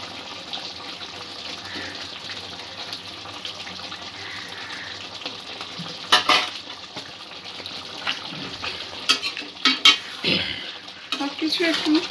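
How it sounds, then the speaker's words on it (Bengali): Prawn korma being stirred in a pan after ghee and garam masala go in, with soft scraping and clinking of a spoon against the pan, faint at first and then a few louder clattering strokes. "সবকিছু একটু ভালো করে মিক্স করে নেব।"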